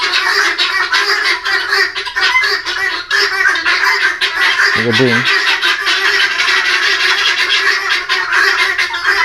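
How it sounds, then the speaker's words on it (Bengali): Farm hens squawking and cackling loudly and continuously while eggs are collected, a dense, noisy chorus of fowl cries with a brief voice cutting in. "অনেক চিল্লাফেলা করে মুরগিটি"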